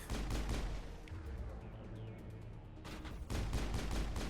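Sustained gunfire from the video game Mass Effect, with dense, rapid shots in a continuous barrage and a brief lull in the middle before the shots pick up again.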